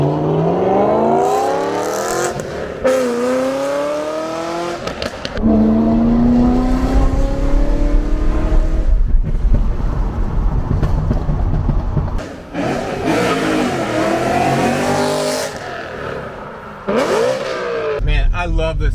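A BMW E92 M3 revs hard while being driven, its engine note climbing and dropping through repeated gear pulls, loud and close from inside the car, with people talking over it at times.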